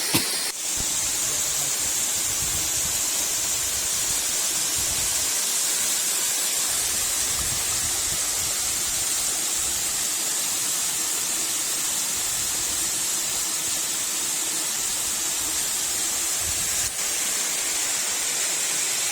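Steady broadband rushing of the Ng Tung Chai waterfalls in Hong Kong, a loud, continuous roar of falling water with no pauses or voices.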